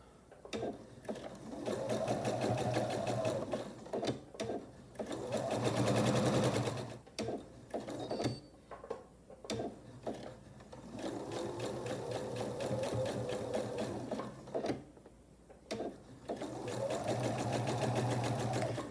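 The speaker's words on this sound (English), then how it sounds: "I'll take it over to the machine, a scant 1/4 inch seam right along here" A sewing machine runs in steady bursts as it stitches a scant quarter-inch seam on a sailboat quilt block, with several long loud runs separated by short pauses, close and clear.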